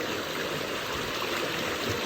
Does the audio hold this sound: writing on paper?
no